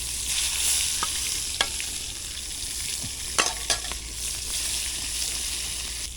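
Eggplant slices fry in plenty of hot oil, a steady close hiss of sizzling broken by a few sharp pops and scrapes.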